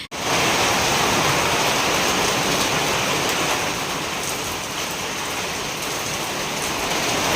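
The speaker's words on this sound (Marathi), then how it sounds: "जोरदार पाऊस येतोय, बघू शकता तुम्ही." Heavy rain pours down in a steady, dense roar of hissing water, loud and continuous with no letup.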